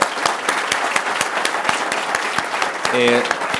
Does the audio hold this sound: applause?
yes